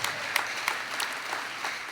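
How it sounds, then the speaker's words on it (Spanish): A church congregation applauding God at a Spanish-language service: soft, diffuse clapping with a few louder individual claps standing out, fairly faint and heard from a distance without speech over it. "Denle un aplauso fuerte"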